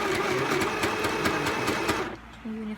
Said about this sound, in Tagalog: Yung tunog niya is parang humming na lang compared dun sa mini sewing machine.